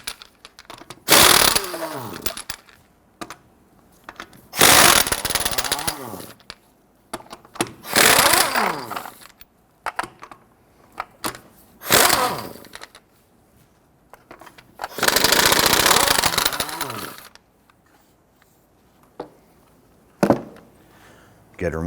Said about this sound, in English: go ahead, loosen and remove your lug nuts.